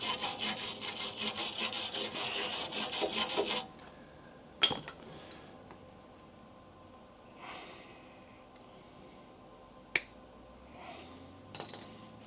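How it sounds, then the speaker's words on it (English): An angle grinder smooths welds on the steel body of a Dodge Charger crew-cab project car, a harsh, loud grinding for about three and a half seconds that then cuts off, leaving quiet shop noise with a few sharp clicks and knocks. "I'm gonna grind this all smooth"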